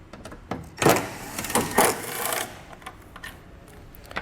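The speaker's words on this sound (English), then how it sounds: "We're going to be removing these 2 screws inside here that are holding our taillight to the body of the vehicle." A driver with a T15 Torx bit backs out the screws holding the taillight to the body of a 2020 Chevrolet, giving a few short whirring bursts close by amid quiet pauses.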